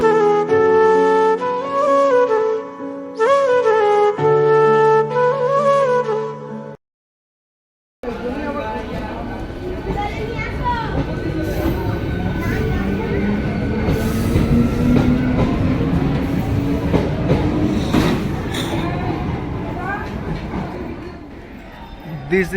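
A train runs between Katwa and Ambika Kalna in West Bengal, heard as a steady rumbling, rattling roar with a slowly rising whine. Music plays first, then a brief silence before the train noise begins.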